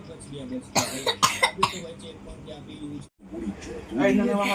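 A child gives several short, sharp coughs in a quick burst early on, followed by a pause and then speech nearby.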